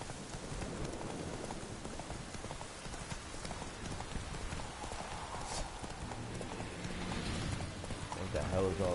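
Roach, Geralt's horse in the video game The Witcher 3, gallops with steady rapid clip-clop hoofbeats throughout, loud and close, while someone talks over the game audio.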